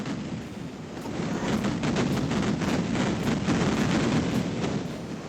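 Rocket launcher fire in the Duke Nukem 3D expansion Duke Xtreme, a steady stream of rumbling launches and blasts that swells and fades in a dense, noisy roar.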